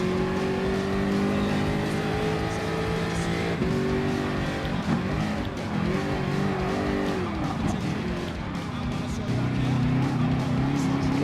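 Race car engines from Gran Turismo Sport, including a Ferrari 458 Italia GT3, in a Gr.3 endurance race at Mount Panorama: loud sustained engine drone with pitch shifting through gear changes, faint tire squeal, no talk.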